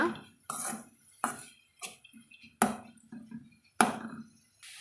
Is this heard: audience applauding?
no